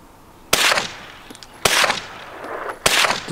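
Three quiet .22-style rifle shots, like a Ruger 10/22, ring out outdoors about a second apart, each a sharp crack with a short fading tail and no voices in between.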